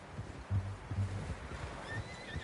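A horse whinnies in the Western video game Red Dead Redemption 2, a short, moderately loud neigh with low snorting and a higher tail near the end over faint ambient game sound.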